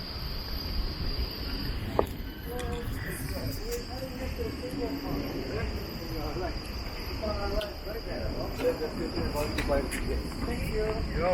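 Crickets chirp at a tropical resort in Singapore, a thin, steady high trill running continuously under a dense hiss of insects and ambient noise, with people talking faintly in the background.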